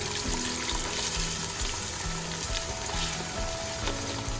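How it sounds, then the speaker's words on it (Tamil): Dense, crackling sizzle of onions frying in hot oil, steady and close, with faint clinks and a background hum. "வெங்காயத்தை போட்டு இப்போ நம்ம தாளிக்க வேண்டியதான்"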